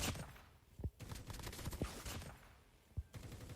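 Gunfire from Call of Duty Mobile crackles in quick, dense bursts, with a few heavier thumping shots standing out over the steady rattle, fairly quiet overall and with no talk.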